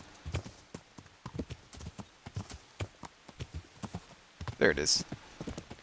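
Horse hooves clip-clop at a gallop in the medieval game Kingdom Come: Deliverance, a steady close rhythm of thuds beneath someone talking, with a brief whinny near the end.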